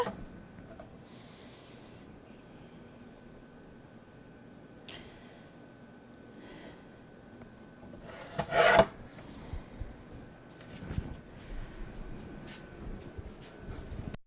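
A paper trimmer slices scrapbook cards: quiet low rasping, then one short, louder sliding cut near the end, followed by a few faint scrapes and taps.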